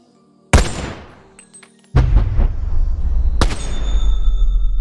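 An M14 rifle fires in Boneworks VR with a mod, three sharp loud reports at uneven gaps. The first shot's echo dies away before the next two come close together over a steady low rumble.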